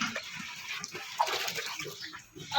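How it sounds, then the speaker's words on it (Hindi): About eight litres of water pours steadily into a cooking pot of fried potatoes and mutton for aloo gosht curry, a continuous splashing rush heard close with no talk. "अब हम इसमें तकरीबन 8 लीटर पानी डाल देंगे और इसको अच्छी तरीके से मिक्स कर लेंगे।"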